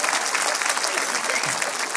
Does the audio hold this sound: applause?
yes